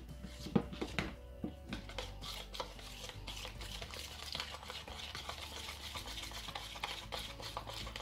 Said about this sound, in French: Surtout il faut bien mélanger.